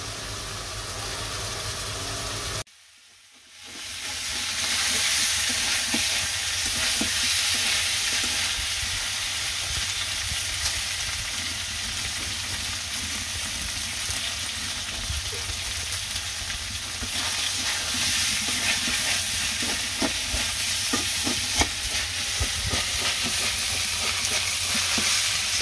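Vegetables for charchari frying in oil, giving a loud, continuous sizzle with occasional stirring scrapes, close by. A short pause near the start breaks the sound, and no one speaks.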